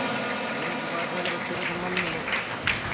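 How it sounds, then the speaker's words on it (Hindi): Applause honoring a woman at a Jain community award ceremony, a sustained patter of many hands clapping close by, with voices talking over it. "एक बार जोरदार तालियां भाभी जी के सम्मान में"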